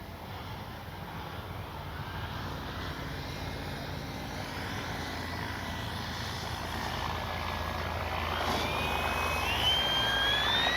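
An RC model airplane, a Draco fitted with a new motor and reprogramming, flies overhead with a steady whine and hum. A higher tone rises toward the end as it passes close outdoors.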